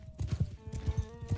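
Horse hooves clip-clop in the medieval combat game Mount and Blade Bannerlord, a quick steady trot of thudding beats with a faint sustained game tone behind them.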